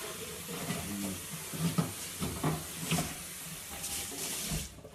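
Tap water runs steadily into a blender in a home kitchen, a continuous close hiss and splash lasting several seconds before cutting off at the end.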